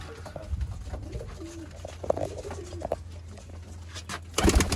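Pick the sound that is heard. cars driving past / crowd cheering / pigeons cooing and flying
pigeons cooing and flying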